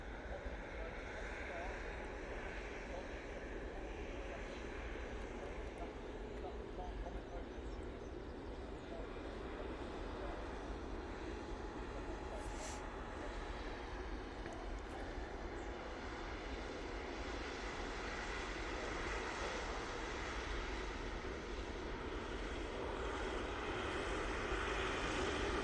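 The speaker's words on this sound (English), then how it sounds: "So this Ethiopian 787-9 Dreamliner's come in from Geneva." An Ethiopian Airlines Boeing 787-9 Dreamliner arriving from Geneva at Manchester Airport produces a continuous, even jet roar that builds slightly toward the end, with a brief faint chirp midway.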